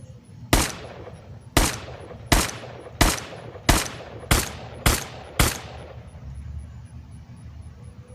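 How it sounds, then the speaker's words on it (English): Seven sharp gunshot-like reports from a SIG Sauer P225 P6 prop pistol with a massive slide, fired at a steady pace roughly a second apart, each loud and close with a short decaying tail over a low background hum. "the SIG Sauer P225 P6 firing with this very massive slide"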